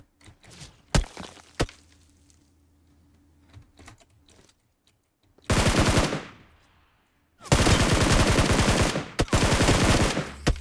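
Gunfire in the mobile battle royale game PUBG Mobile, a few sharp isolated shots at first, then two loud sustained bursts of rapid automatic fire separated by a pause, with faint clicks and a quiet voice between them.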